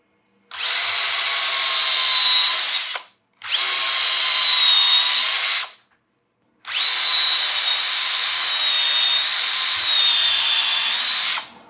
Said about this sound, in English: So now our faceplate is screwed on.